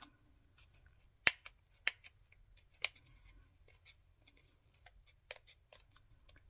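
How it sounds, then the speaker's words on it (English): Several sharp, crisp snips of scissors cutting paper, spaced irregularly with quiet pauses between, close and clear. "Love these scissors."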